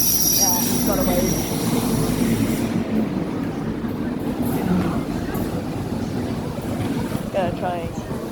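Train from Cardiff to Taunton at Newport station in South Wales: a loud continuous rumble and rolling clatter of carriages with faint wheel squeals, steady throughout under a busy platform ambience.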